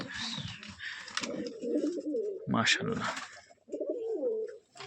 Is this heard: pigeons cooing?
yes